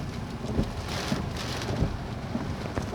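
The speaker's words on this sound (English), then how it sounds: "Yep, some rain." Wind and rain during a storm roar as loud, buffeting noise, with gusts hitting the microphone in low thumps over a steady rushing wash.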